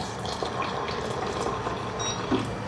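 Hot water poured into a cup while making a drink, a steady continuous liquid stream heard close up and fairly loud for a few seconds.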